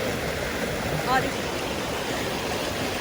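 A fast-flowing river after flooding rushes as a steady, dense broadband roar, constant and fairly close throughout with no other clear sounds.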